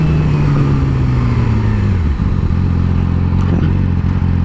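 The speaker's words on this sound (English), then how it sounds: "coming from about 70 miles an hour. The engine braking" Yamaha R6 sport motorcycle engine braking down from about 70 mph, a loud, steady engine drone whose pitch slides downward for two seconds before settling into a lower, rougher rumble with wind noise throughout.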